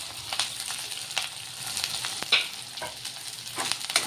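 Five to seven green chillies frying with onion in a pan for zunka, with a continuous light sizzle and crackle broken by sharp spatula clicks and scrapes, close and alone.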